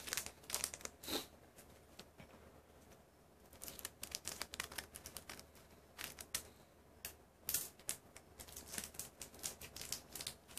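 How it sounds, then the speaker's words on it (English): A sealed Magic: The Gathering booster pack from Return to Ravnica is torn open and its foil wrapper crinkled, giving faint, close, irregular crackles and rips over a quiet background, with no talking. "she's going to open up the pack for us"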